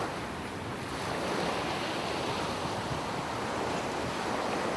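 Sea waves wash in a continuous broad roar with wind noise on the microphone, steady and fairly loud throughout, with no voices.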